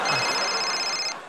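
A telephone rings in a domestic comedy scene, a steady electronic trill holding for about a second before cutting off, loud and close.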